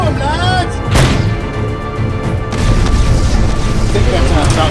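A bazooka fired at a tower in a battle scene, one heavy boom bursting out near the start of a loud, rumbling din of combat, with voices shouting through it.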